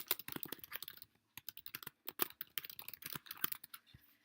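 Quiet, close keyboard typing on a Mac computer comes in quick bursts of crisp key clicks, with short pauses between runs and no talking.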